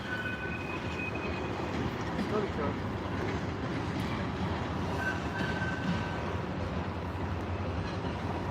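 A CSX freight train passes at a steady roar, with continuous rumbling wheel noise and faint squeals, and a voice talking in the background.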